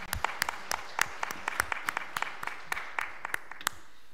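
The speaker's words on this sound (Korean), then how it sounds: "우리 하나님께 영광의 박수를 돌려드립니다." A small church congregation at a Sunday worship service claps for God: sparse, distinct handclaps in an uneven rhythm, quiet and close, with no voices over them.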